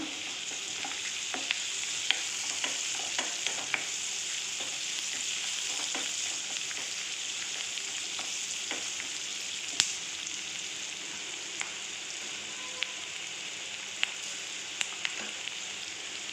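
Onions frying in a pan with turmeric powder, a continuous close hiss and sizzle with occasional light clicks of stirring, steady throughout with no voices.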